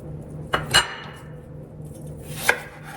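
A knife slices an onion into half moons, giving a few sharp, separate chopping taps against a board that are close and fairly quiet, with no voices over them.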